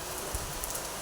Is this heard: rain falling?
yes